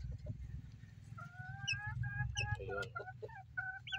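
Hens and a rooster cluck in a backyard flock, a run of short, clear calls at close range over a low background rumble, with a brief spoken word.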